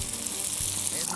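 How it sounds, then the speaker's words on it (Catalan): Bread croutons frying in hot oil give a dense, loud, steady sizzle and crackle for about a second, close to the microphone. "Agafem el pa i en farem crostons de pa fregit."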